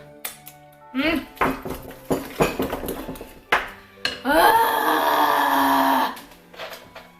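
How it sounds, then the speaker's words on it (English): Banana being broken up and mashed with a spoon in a mixing bowl for banana bread, giving a run of irregular clanks and scrapes followed by a sustained scraping passage, close and fairly loud with no talk. "you just break your banana into there and just keep stirring again until they've all sort of mushed up"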